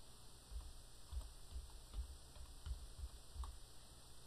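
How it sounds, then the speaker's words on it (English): Light typing on a computer keyboard, soft irregular key clicks and taps close by, faint and alone with no speech. "we can simply type Keyboard."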